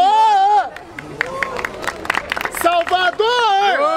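A crowd at a rap battle in Barueri, São Paulo, cheers and shouts for a rapper, with loud voices over one another and a bright whooping swell near the end.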